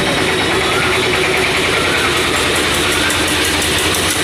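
Motorcycles travel a busy road on Eid, heard as a loud, steady engine drone that never breaks, with no clear single pass standing out.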